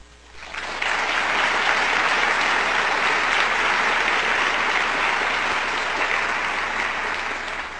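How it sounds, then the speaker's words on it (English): A Stanford law audience bursts into loud, sustained applause for a justice, a dense, even roar of many hands clapping that holds strong for several seconds. "I should have said hold your applause to the end, but now it doesn't matter."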